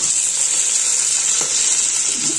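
Cumin, ginger pieces, onions and green chillies frying in a pan, a steady close sizzle with a faint scrape partway through, no voices.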